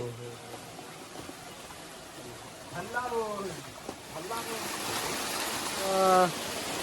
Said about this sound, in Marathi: पाणी तर बघा बाबा